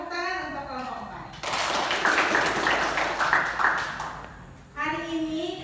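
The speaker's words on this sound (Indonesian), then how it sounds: "Tepuk tangan untuk kelompok 4." A school class applauds for group 4, a burst of many hands clapping together loudly for about three seconds, framed by a teacher's voice speaking before and after.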